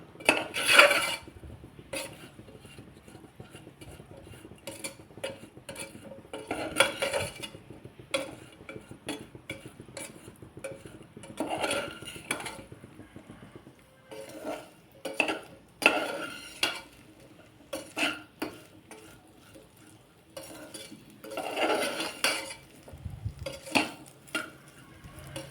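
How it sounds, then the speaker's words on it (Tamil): Ladies finger gravy is stirred in a pan at intervals, with bursts of scraping and clinking utensil strokes over a soft, low sizzle. Quiet pauses fall between the stirring bursts. "லைட்டாக கிளறி விட்டுட்டே இருங்க"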